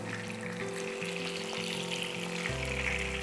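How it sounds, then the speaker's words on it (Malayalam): Fish pieces (paplet) frying in hot oil in a pan give a steady, dense sizzle that holds throughout, with a low humming tone beneath and no talk. "നമ്മളിത് അടുത്ത സെറ്റ് മീനും വറക്കാനെ കൊണ്ട് ഇട്ടിട്ടുണ്ട്"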